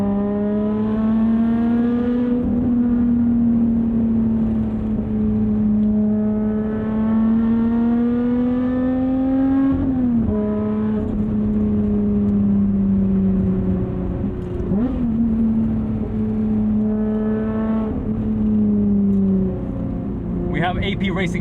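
A 2020 Lotus Evora GT engine drones steadily while driving, its pitch swelling and dipping with throttle changes and occasional shifts, heard from inside the cabin as someone talks over it.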